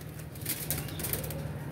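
Pigeons on a rooftop flap their wings in soft repeated flutters over a low steady hum, faint and close, with no voices.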